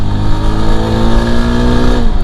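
A 2022 Yezdi Adventure motorcycle engine revs hard and close, with a loud, steady, buzzing drone that holds for about two seconds before easing slightly.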